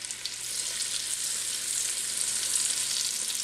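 Pork pieces frying in hot oil in batches for Colorado green chili with Hatch peppers, a steady close, even sizzle throughout with no talking.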